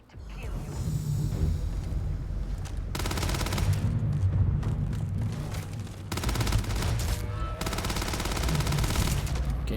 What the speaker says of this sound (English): Why is there just explosions all around me, like constantly?